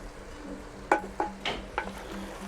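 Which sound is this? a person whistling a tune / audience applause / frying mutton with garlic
frying mutton with garlic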